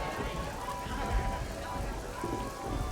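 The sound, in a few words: rain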